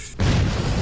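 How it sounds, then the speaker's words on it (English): Explosion in the shooter game Syphon Filter: The Omega Strain, a sudden loud low-frequency boom that swells into a sustained rumbling roar. "Explosions!"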